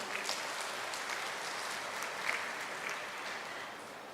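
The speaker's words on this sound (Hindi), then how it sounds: "जोरदार अभिनंदन करें अपनी तालियों की गड़गड़ाहट से" Crowd applause for Amit Shah at a Jabalpur Balidan Diwas event, steady broadband clapping at a distance, faint and continuous across the whole stretch.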